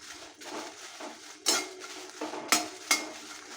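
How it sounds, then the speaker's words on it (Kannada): Cumin and pepper dry-roasting in a pan, heard as soft rattling and sharp metallic scrapes of a spoon stirring the spices, with several louder clanks among the quieter shuffling. "ಇದಕ್ಕೇನೆ ಜೀರಿಗೆ ಮೆಣಸು ಹಾಕ್ಕೊಡ್ತೀನಿ."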